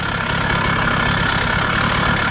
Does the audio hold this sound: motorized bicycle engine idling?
yes